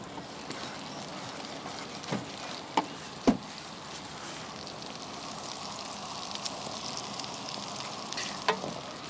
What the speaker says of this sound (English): These are already boiled and drained, so we just fry them until golden brown.